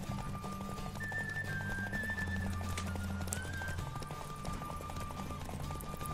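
A horse's hooves clip-clop in a steady galloping rhythm in The Witcher 3: Wild Hunt, with occasional whinnying and wind rushing, at moderate level with no talk.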